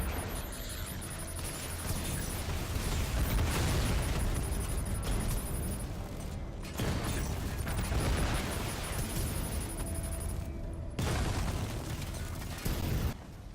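Sustained cannon fire and explosions against the Cloudburst tank in Batman: Arkham Knight, forming a dense, loud, continuous roar of blasts and mechanical rumble that breaks off briefly twice.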